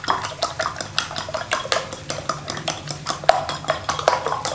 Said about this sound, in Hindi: अंडों को हम अच्छी तरह से फेंट लेंगे